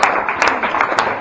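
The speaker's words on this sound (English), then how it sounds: "if you could give her a round of applause" A short burst of audience applause at a business networking meeting, dense clapping from a small room lasting about a second.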